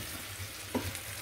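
Potatoes frying in a pan at home during breakfast preparation, a steady soft sizzle with a brief stir or clatter partway through, moderately quiet and with no talking.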